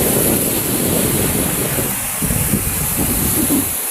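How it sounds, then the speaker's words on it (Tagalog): Steady broadband roar of sea surf washing in against rocks, loud and continuous, with wind buffeting the microphone throughout. "Dagat."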